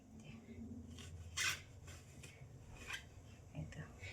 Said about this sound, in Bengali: বেগুনি হবে, বেগুন কাটছি।